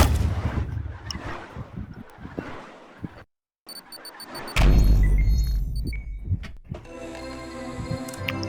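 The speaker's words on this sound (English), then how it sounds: "gotta jump down before the bomb goes off" A bomb goes off in the fast-paced shooter ULTRAKILL, a loud deep blast partway through among harsh game effects and gunfire-like crashes, followed by a ringing, tonal synth-like tail.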